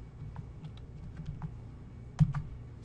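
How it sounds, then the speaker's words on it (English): Keystrokes on a computer keyboard while entering an Excel formula, a handful of sparse, faint clicks spread out over a low steady hum, with one sharper, louder tap near the end. "Then I'll use the keyboard to"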